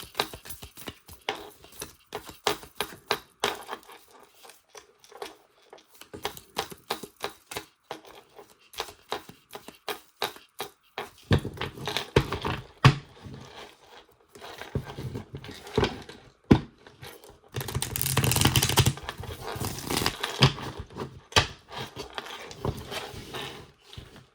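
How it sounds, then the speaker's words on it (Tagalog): Deck of playing cards being shuffled, a run of quick riffling flicks and soft slaps, close and fairly quiet, with a louder dense burst of card riffle near the end and no talking. "Balasahin po muna natin"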